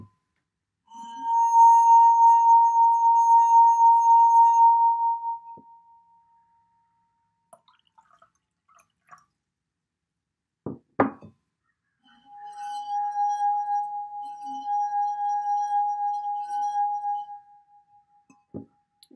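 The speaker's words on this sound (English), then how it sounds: "by just rubbing my finger around the edge of the glass" Water-filled drinking glass rubbed around its rim with a finger, giving two long, pure, ringing sustained tones, each a few seconds long, separated by quiet and a few light knocks and clinks.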